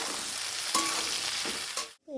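Capsicum, onion, tomato and slit green chilies sizzle steadily in a pan, a loud continuous fry with brief stirring scrapes, cutting to near silence just before the end.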